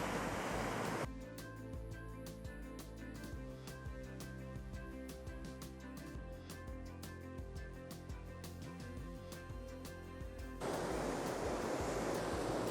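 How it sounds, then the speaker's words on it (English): Sea waves break on a beach in a steady, loud wash of surf that roars without pause, with wind buffeting the microphone throughout and no voices. "the waves just keep getting bigger and bigger"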